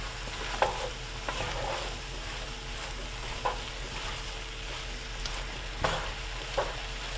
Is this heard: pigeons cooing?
no